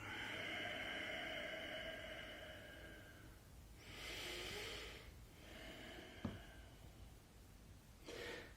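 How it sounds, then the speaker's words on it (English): Slow, audible breaths in and out during a gentle yoga flow, each long airy exhale rising and fading at an unhurried pace, close and quiet, with a brief tap partway through. "Breathing in and breathing out."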